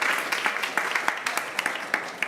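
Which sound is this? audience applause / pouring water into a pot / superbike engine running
audience applause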